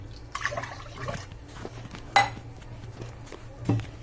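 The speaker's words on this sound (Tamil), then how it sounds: "மூணு டம்ளர் தண்ணி ஊற்றியாச்சு." Water is poured into rice and lentils for pongal, making soft, faint splashing and trickling with a few brief louder splashes in a quiet kitchen.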